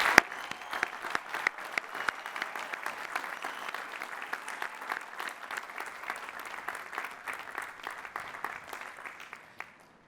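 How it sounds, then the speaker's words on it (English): A crowd at a university commencement ceremony applauds from a distance, a long, even patter of clapping with many distinct claps standing out as it gradually thins. "congratulations and applause."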